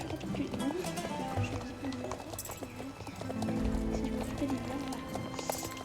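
Horse hooves clip-clopping in a video game, a steady run of hoofbeats sitting under continuous talking from a nearby voice, with a brief whinny-like tone in the mix.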